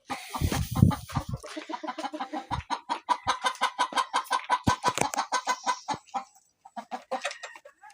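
Fayoumi chickens cluck in a rapid, steady series of short calls close by while eating from a bucket, with a few louder squawks at the start before the clucking trails off.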